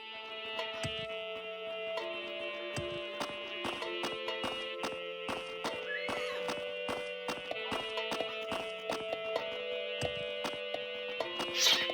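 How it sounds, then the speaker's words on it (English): Horses in the video game Morrowind clip-clop steadily over a bed of sustained game music, hoof strikes landing in an irregular trotting rhythm at moderate loudness throughout. "These are horses."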